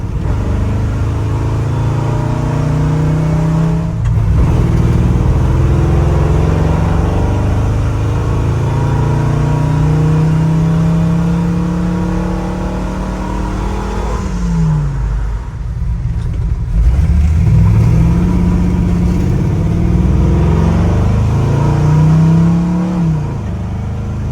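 A 1970 Ford F-100 bumpside with a Crown Vic engine swap and a 600 CFM FST carburetor, its engine loud and close, holding steady revs with repeated rises and falls in pitch as the throttle is opened and released.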